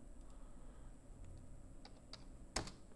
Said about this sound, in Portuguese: Vou digitar qualquer coisa.